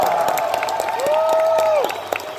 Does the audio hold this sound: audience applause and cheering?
yes